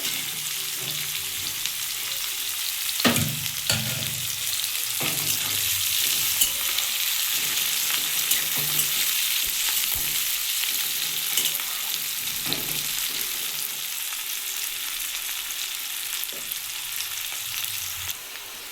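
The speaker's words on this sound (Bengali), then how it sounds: "পেঁয়াজটা আমি ভালো করে লাল করে একটু ভেজে নেবো" Onions frying in a pan until reddened for a chicken curry, a steady close sizzle with repeated scraping stirs and occasional clicks of the utensil, loud and continuous without talk.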